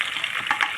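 Onions and curry leaves sizzle in hot oil for mutton biryani, a steady close crackle with a couple of brief louder bursts as they are stirred.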